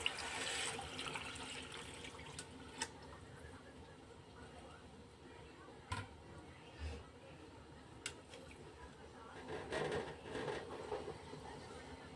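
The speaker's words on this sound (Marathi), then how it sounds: "तर आपण इथे चार वाटी पाणी घेतो त्याच वाटीच्या मापाने" Water poured from a measuring cup into a pot of rice for a vegetable pulao, a steady rushing splash with a faint voice at times.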